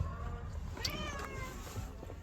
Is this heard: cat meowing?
yes